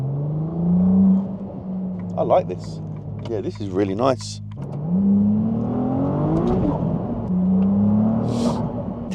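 Ferrari 296 GTS accelerating from inside the cabin, engine note rising and falling in repeated sweeps while people talk over it.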